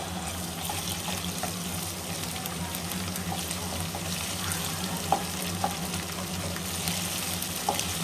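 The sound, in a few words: kitchen chimney range hood running while frying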